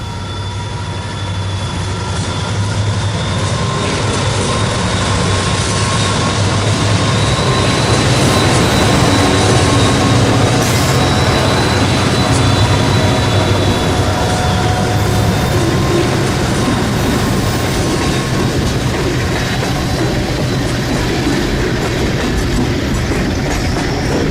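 A model freight train, the Detroit to Ironton auto freight on a layout, rumbles steadily past at close range, with a low engine drone, rolling wheel noise and faint clickety-clack throughout, no voices.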